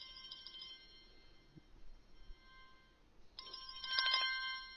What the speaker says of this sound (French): sonnerie des appels entrants